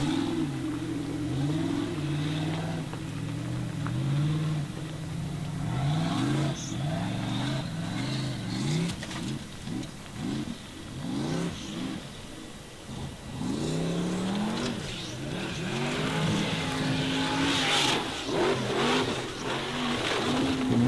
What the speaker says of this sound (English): This is a turbo engine with a nitrous, so there won't be any lag on it.